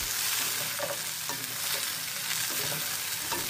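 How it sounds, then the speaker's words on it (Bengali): New potatoes fry in oil over medium heat, a dense continuous sizzle broken by several scraping stirs of a spatula, close and loud with no voices. "এবার নতুন আলুটা আমি ভালোভাবে নাড়াচাড়া করে মিডিয়াম আঁচে 5 থেকে 6 মিনিটের মতো তেলের উপরে ভেজে নিয়েছি।"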